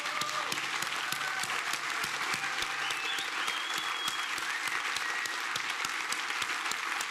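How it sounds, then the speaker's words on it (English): A conference audience applauds a panel at a media event on reporting conflict, with steady, dense clapping filling the room throughout at close range, with no one speaking over it. "give a round of applause for this remarkable panel"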